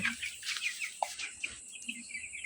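Chickens about two weeks old on a poultry farm, giving short chirps and soft clucks in scattered bursts, fairly close and faint, with no talk.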